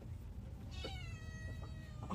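A cat meows several times in a home setting, the calls moderately close and rising over steady low background noise, with no talking.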